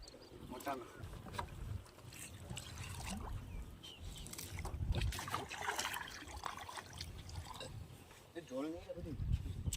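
A fishing rowboat carrying a tied bag net moves across river water, with gentle sloshing and lapping against the hull, wind, and uneven knocks as people talk nearby.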